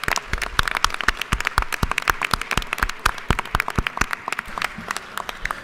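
Audience members in a state legislative chamber clap for several seconds, the individual claps sparse and distinct, fairly close, with no talking over them.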